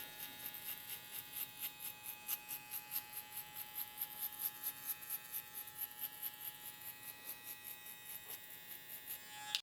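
Electric hair clipper buzzing faintly with a steady high-pitched whine and rhythmic pulsing strokes as a zero-length guideline is marked for a mid drop fade, no talking heard.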